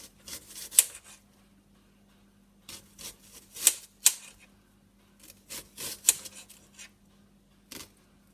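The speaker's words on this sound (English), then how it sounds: "You just want to cut thin, even slices." A kitchen knife cuts food into thin, even slices for a stir fry, sounding as crisp, close chopping taps in short rhythmic bursts separated by pauses.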